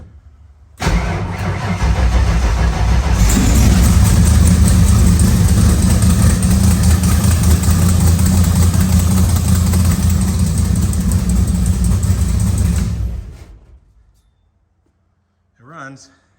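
A rewired car engine cranks and catches about a second in, then settles into a loud, steady idle for roughly twelve seconds before shutting off into silence, with a brief voice near the end.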